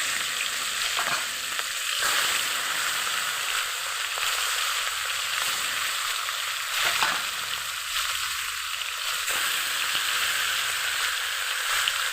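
Mustard oil sizzles in a hot wok for fish, a steady bright crackling hiss held throughout at close range, with occasional soft stirring scrapes and no voices.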